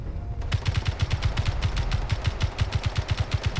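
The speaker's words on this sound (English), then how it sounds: "Is that you shooting? Nope. Oh, we're taking hits." Rapid automatic gunfire strikes a ship in the Space Engineers game, a dense stream of sharp, evenly spaced cracks and impacts lasting several seconds at steady loudness, with no talk over it.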